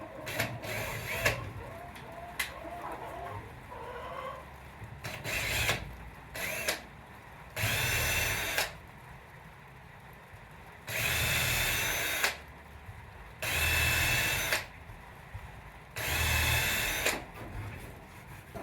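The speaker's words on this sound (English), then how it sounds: "grab our drill. We're just gonna go a little bit" A power drill drives screws into wood while building a pigeon coop in a barn loft. There are several short bursts of whirring, each lasting about a second, separated by quieter handling sounds.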